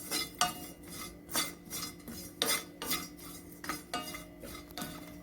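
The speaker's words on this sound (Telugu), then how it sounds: "ఇప్పుడు కొబ్బరి వేయించుకుందామండి. నేను 1/2 చెక్క కొబ్బరి వేసి, ఇది కూడా పచ్చి వాసన పోయేదాకా, ఎండు కొబ్బరే అయినా కానీ కొంచెం స్మెల్ మారే వరకు వేయించుకుందాం" Dry coconut frying in a pan and being stirred, with rhythmic metallic scrapes and clinks of a spoon against the pan roughly every half second, close and clear, with no voices.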